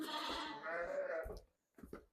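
Sheep, ewes kept with their lambs, bleat close by in a long wavering cry followed by short quieter bleats after a pause, loud against a quiet background.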